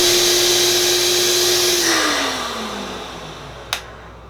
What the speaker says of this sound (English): Let's see what happens with the Festool vac hose.